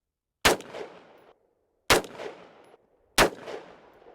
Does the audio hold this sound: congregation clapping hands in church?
no